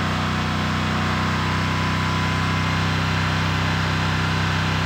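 A hydrogen-powered V8 combustion engine runs at high RPM on a test stand, a loud, steady, dense roar with a constant drone and no breaks, close by and heard alone.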